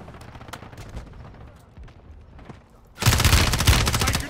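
Enemy squad gunfire in a Call of Duty Rebirth Island battle royale match erupts suddenly as a loud, dense burst after quieter footsteps and movement, continuing to the end.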